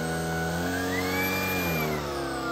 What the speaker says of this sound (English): You can hear that the brush roll motor sped up.